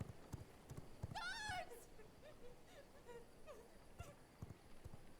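Horse hooves clip-clop in a video game, a few soft thuds with a short whinny among them, quiet and low under faint background sound.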